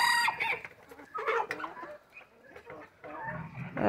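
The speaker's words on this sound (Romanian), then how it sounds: "Vedeți, vin găinoșii mici." Several chickens, including chicks, cluck and chatter nearby in short, irregular bursts, fairly soft, with a few higher squawks mixed in.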